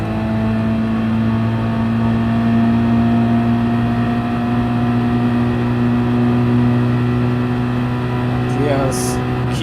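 A racing car on its first qualifying lap holds high revs in a sustained, steady engine whine with a constant pitch, with a commentator talking over it.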